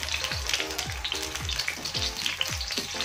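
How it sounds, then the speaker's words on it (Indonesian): Garlic and shallots hit hot oil in a pan for stir-fried long beans, sizzling and crackling steadily up close, with rhythmic scraping stirs and no talk. "Minyaknya sudah panas, sekarang kita masukkan bawang putihnya 1 siung,"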